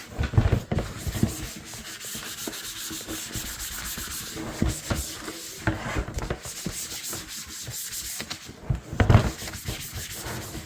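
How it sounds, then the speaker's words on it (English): Scrubbing down a kitchen trash can and its foot pedal, a steady close rubbing and scouring with a few louder strokes and knocks, no voices. "We're also cleaning that foot pedal. Do the same thing for the other trash. Doing a nice scrub down."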